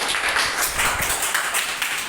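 Children in a classroom clap loudly together, a dense burst of rapid hand claps lasting a couple of seconds.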